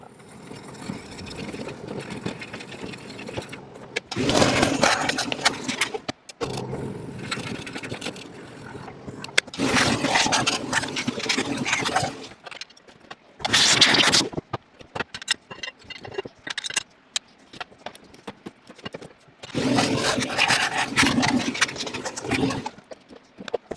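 Repeated loud bursts of harsh machine cutting as plugs in a bowling ball are cut, each lasting a couple of seconds, alternate with quieter stretches of a motor running steadily.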